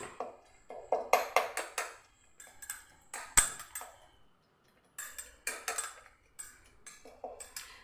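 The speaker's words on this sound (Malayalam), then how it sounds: "സ്പൂണ് വെച്ച് നമുക്കിതൊന്ന് കുത്തി കൊടുക്കാം." A metal spoon presses mint and lemon in a drinking glass, giving sharp clinks and pings. They come in irregular clusters with brief pauses, close and crisp, with no talking.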